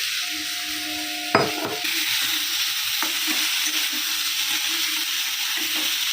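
Fried fish and fried taro with potato being stirred in a pan, a steady close sizzle with a sharp metallic scrape of the spatula and softer stirring knocks, a faint hum underneath.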